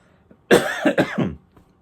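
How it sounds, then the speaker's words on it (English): Someone clears their throat close up, a short series of rough, guttural rasps lasting about a second. "Forgive me for the clearing my throat business."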